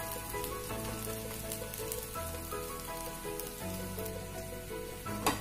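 A wheat flour dosa cooking on a pan over a low flame, giving a soft, even, continuous sizzle like light rain, fairly quiet and uninterrupted, with no speech.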